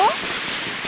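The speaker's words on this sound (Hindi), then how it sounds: "पटाखे लगाओ, वहाँ से भाग।" A firecracker set off during a festive celebration bursts with one sharp bang, followed by a brief crackling, hissing tail.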